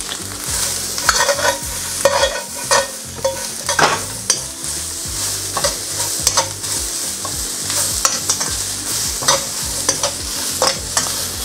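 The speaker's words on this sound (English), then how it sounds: "give that a good stir. Look at the colour combination there. Get that going. And then my bean sprouts." Spring roll vegetables and bean sprouts are stirred and tossed in a hot pan, a loud, continuous sizzle broken by repeated scraping stir strokes from a utensil, close and without talk.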